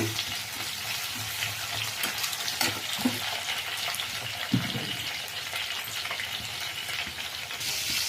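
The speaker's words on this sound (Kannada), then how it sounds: "ಈಗ ಇಲ್ಲಿ ಟೊಮೆಟೊ ಹಸಿಮೆಣಸಿನ್ಕಾಯಿ ಬದನೆಕಾಯಿ ಫ್ರೈ ಆಗ್ತಾ ಇದೆ" Tomato, green chilli and brinjal sizzle steadily in hot oil, a dense crackling hiss that fills the whole stretch, with a few soft clinks and scrapes of a spoon stirring the pan now and then.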